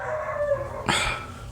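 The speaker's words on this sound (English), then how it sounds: "sounds like someone's playing with the dogs" Dogs bark during play, one sharp close yelp cutting through a steady background hum and faint tonal whine, heard alone without speech.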